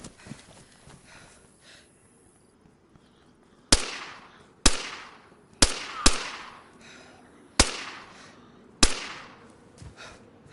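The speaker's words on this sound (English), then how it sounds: "I heard all those frigging shots" Six loud, sharp gunshots ring out in DayZ, irregularly spaced over several seconds, each with a short echoing tail after a quieter stretch of faint movement; no one talks.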